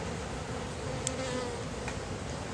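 Honeybees swarming over a frame lifted from a nuc hive, a steady close, dense buzzing drone that fills the whole stretch, with no voices.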